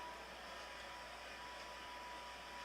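A hair dryer runs steadily in the background of a salon, giving a constant faint whirring hiss with a thin tonal whine and no talk over it.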